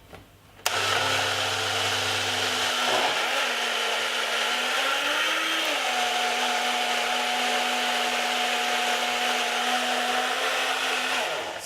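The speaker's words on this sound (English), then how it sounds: "it's good to have a powerful blender for this kind of drink" A small countertop blender whirs through a fruit smoothie, starting abruptly and running as a loud, steady motor roar for about eleven seconds. The pitch dips and wobbles slightly as the contents churn, then the motor cuts off.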